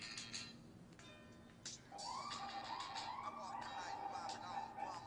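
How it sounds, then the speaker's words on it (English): An emergency vehicle siren wails outdoors, rising after a moment into a steady, wavering tone that is moderately distant. It sits under faint background noise and earlier clattering sounds. "pardon the siren going on in the back."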